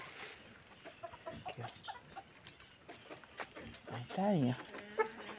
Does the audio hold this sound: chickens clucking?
yes